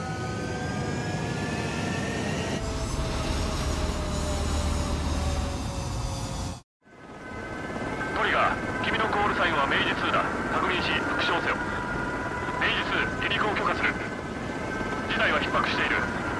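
Military jet aircraft taking off in Ace Combat 7: a steady, loud engine roar with rising whine builds, cuts out abruptly, then resumes with engine drone under radio voices talking.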